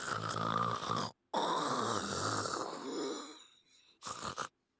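A character in the video game Triangle Strategy snores loudly and theatrically in drawn-out rasping breaths, broken by short silences and ending in a brief final snort.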